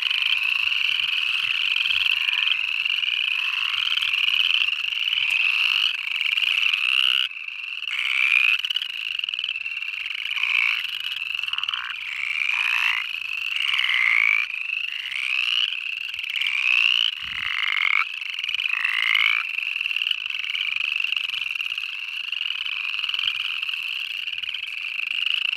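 A dense chorus of upland chorus frogs near a pond, their rising, creaking trills overlapping continuously and loud throughout, with no voices over them.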